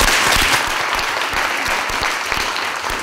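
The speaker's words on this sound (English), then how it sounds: "a warm hand of applause for your efforts" A conference audience at a climate change discussion on the Kyoto Mechanisms claps steadily. The dense, close applause holds an even level throughout, with no voices over it.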